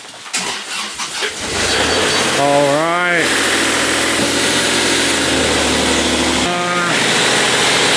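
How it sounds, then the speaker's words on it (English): An excavator diesel engine cranks and catches with a rising whine, settles into a loud steady idle, then revs briefly again near the end; a short spoken word comes just before it starts. "Today we're starting up the excavator"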